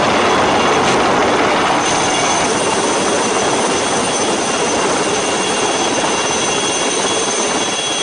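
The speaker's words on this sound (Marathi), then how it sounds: "अशा वातावरणात हे हेलिकॉप्टर आहे त्यांचं बचाव कार्य सुरू होतं जे आता पूर्ण झालं" A coast guard rescue helicopter flies over the sea off Goa in cloudy, rainy weather, making a loud, steady, rushing roar that fills the whole clip.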